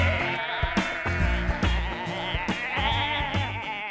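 Sheep bleat repeatedly on a farm, several overlapping wavering calls in quick succession, close and clear, with a faint music bed underneath.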